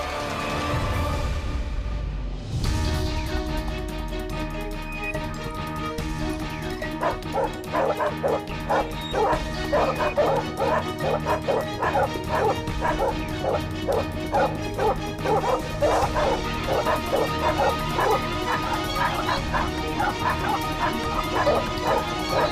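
Dogs in a mango orchard in a Hindi TV drama bark and yelp repeatedly, an excited, rhythmic volley of yips and whimpers under a background score.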